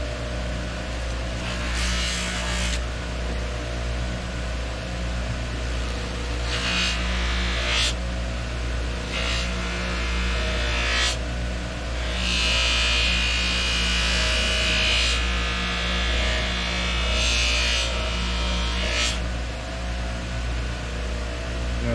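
A knife handle is buffed with blue plastic polishing compound against a motor-driven buffing wheel, a steady loud whir with repeated harsh hissing bursts as the piece is pressed in, continuing for about twenty seconds without talk.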